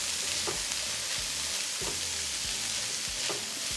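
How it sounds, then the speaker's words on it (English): Cold cooked white rice frying in a hot pan with steak and vegetables, a constant close sizzle broken by a few soft scrapes of stirring at regular intervals. "add 3 cups of cold white rice. Just allow that to cook."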